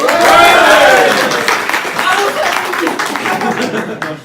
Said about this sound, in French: Applaudissements pour Théa